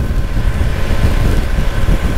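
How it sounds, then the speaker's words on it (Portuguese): Crosswind buffets a motorcycle on an open road, a loud, continuous low rumble and roar of wind on the microphone with slight gusting fluctuations and no voices. "E um ventinho lateral que praticamente não está afetando a moto."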